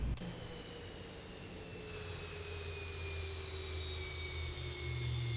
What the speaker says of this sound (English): this is my other favorite part, is the engine shutdown sound